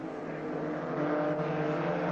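Two racing cars accelerate hard up a hill through an S-bend toward West Bank corner, a loud, close, sustained engine roar that builds slightly as they pass.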